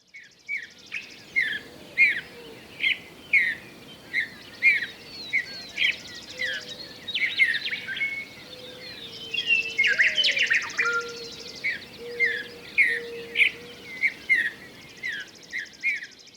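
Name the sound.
birds singing at dawn on prairie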